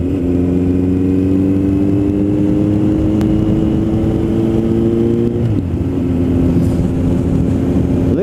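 A 2008 Suzuki Bandit 1250S motorcycle with a newly fitted aftermarket exhaust pipe revs loud and close, a steady deep engine drone that climbs in pitch, drops off briefly, then picks up again.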